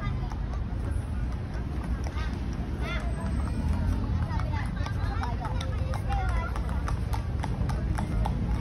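Horse hooves clip-clop steadily at close range along a path in Wright Park, Baguio, mixed with a constant hubbub of crowd chatter and voices.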